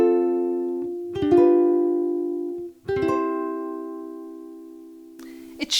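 Electric guitar played through a Lekato WS-90 wireless guitar system into an amp, sounding a few sustained chords and notes with pick attacks, close and fairly loud, ringing out between strums with no talking.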